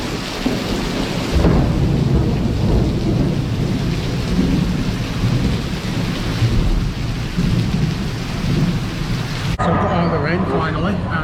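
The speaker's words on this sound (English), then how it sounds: "There's just been a huge flash of lightning and literally not even a second passed before the loudest thunder I have ever heard in my life." A violent thunderstorm in George Town, Penang: an enormous, very loud thunder crack and long rumble rolling over steady heavy rain, the downpour continuing after the thunder fades.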